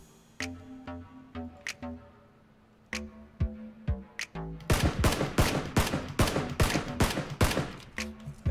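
PUBG gunfire: a few spaced single shots, then a dense, loud burst of rapid fire that keeps going, with no voices.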